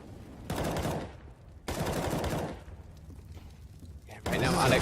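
AK rifle fire in the Counter-Strike video game, three loud sharp bursts of rapid shots separated by brief gaps, with a voice talking underneath.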